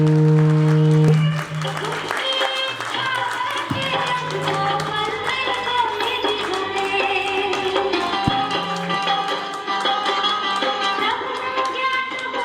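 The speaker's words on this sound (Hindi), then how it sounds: "तालियां जोरदार तालियां बजाएं।" Audience applause rises after a sustained musical tone fades, with dense clapping continuing steadily under the mix at a moderate level during a Jain pilgrimage gathering.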